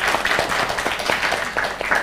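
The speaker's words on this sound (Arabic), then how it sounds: "صفقوا عليه" Children in Algeria clap together in steady applause, a busy patter of many hands that continues without a break for about two seconds.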